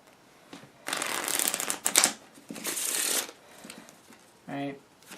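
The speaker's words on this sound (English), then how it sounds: "Give it a few shuffles." Playing cards shuffled by hand during a magic trick, two bursts of riffling with a short voice-like tone near the end.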